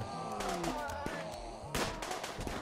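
Gunfire in the Rimworld video game as colonists shoot a cougar, with several sharp shots and bursts over a busy game soundscape while a voice talks throughout.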